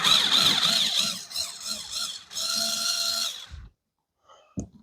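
A power drill backs out the screws of a Dometic thermostat in a Winnebago Micro Minnie, whining loudly in a couple of sustained runs with a short break, then stopping, followed by a faint clunk.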